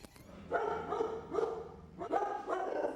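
Dog at a port of entry on the US-Mexico border barking in several loud, close, rapid bursts, with brief whiny yips between them.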